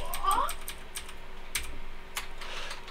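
Typing on a computer keyboard, a run of quick irregular key clicks close up, with a couple of louder taps standing out.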